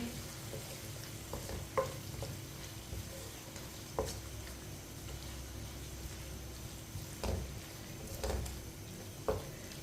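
Tinda sabzi being stirred in a pan after garam masala goes in, a low steady simmering sizzle under occasional spoon scrapes and knocks spaced a couple of seconds apart, quiet and near, no voices.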